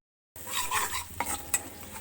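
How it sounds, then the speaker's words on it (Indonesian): Tempeh fries in a pan, a soft, steady sizzle starting abruptly and running under occasional clinks and scrapes of a utensil stirring against the cookware, with no talking. "Ini aku lagi goreng tempe"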